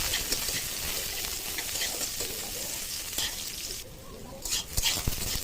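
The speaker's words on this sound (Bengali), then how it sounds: "এগুলোকে কড়া করে ভেজে নেবো, একটু ভালো করে ভাজতে হবে উস্তেগুলো।" Bitter gourd pieces (ucche) sizzle crisply in hot oil, a dense continuous crackle with occasional stirring scrapes, briefly dipping quieter before the spitting picks up again.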